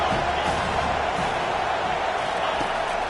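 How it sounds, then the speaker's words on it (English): Dense stadium crowd roar from a USC versus Notre Dame NCAA college football video game, a steady, loud wash of cheering and noise filling the whole moment without letup. "this crowd is turning it up a notch"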